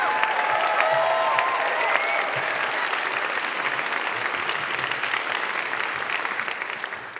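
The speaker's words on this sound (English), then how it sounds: "that applause going then, and welcome your second storyteller" Sustained audience applause fills a storytelling event in London, a dense wash of many hands clapping that holds steady for several seconds before easing slightly at the end.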